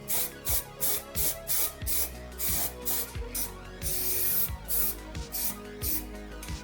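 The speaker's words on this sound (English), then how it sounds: "blast over some high quality etch primer and the world's cheapest spray booth" Repeated bursts of spray-gun hiss applying etch primer to a Golf GTI wing, in a steady on-off rhythm, each blast under a second with short pauses between, close and fairly loud.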